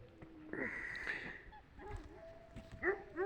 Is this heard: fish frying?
no